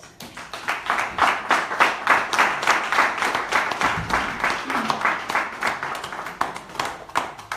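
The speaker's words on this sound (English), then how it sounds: "So can you please give him a round of applause?" Rhythmic audience clapping at a formal ceremony, rapid and fairly loud, continuing steadily across the clip with a brief murmur of voices beneath.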